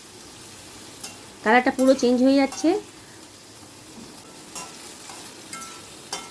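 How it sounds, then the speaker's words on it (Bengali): Okra (bhindi) fries in a pan with a soft, steady sizzle and a few light stirring scrapes, while someone speaks briefly over it. "দেখেই মনে হচ্ছে ভেন্ডিটা কিন্তু খুব সুন্দর করে ভাজা হয়ে যাচ্ছে"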